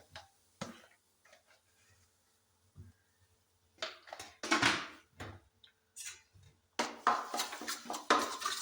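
Chilli powder goes into hot oil in a pan while pappadam curry is cooked, with scattered utensil knocks and taps giving way to louder bursts of sizzling and scraping toward the end.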